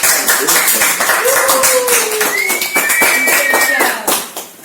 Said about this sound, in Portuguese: Dá uma salva de palmas bem forte para Ana Cristina